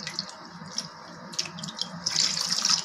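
Water runs and splashes into a pot for paruppu rasam, a thin trickle that grows into a fuller, brighter pour toward the end.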